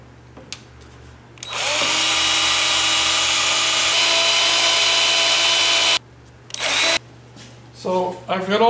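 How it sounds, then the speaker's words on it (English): A power drill runs steadily for about four seconds while boring pilot holes for mounting a Briggs & Stratton 12.5 V-twin engine, loud and close, with brief workshop handling sounds before and after. "And drill our pilot holes first."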